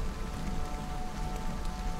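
Heavy rain pours steadily in a dense, even hiss across the whole moment, a continuous close downpour backing a Hindi horror audiobook with no voice heard over it.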